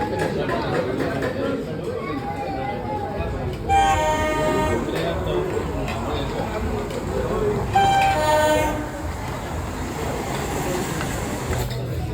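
A miniature food-serving train in a train-themed restaurant sounds two short, bright horn toots a few seconds apart over a steady hum of crowd chatter nearby.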